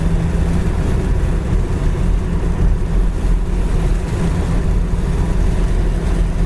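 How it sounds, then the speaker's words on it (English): Steady broadband rush of road and wind noise inside a 1971 Ford Torino cruising on a highway with the window rolled up, a continuous low rumble filling the whole stretch without any talk. "see how we are for wind noise. Really pretty quiet inside here."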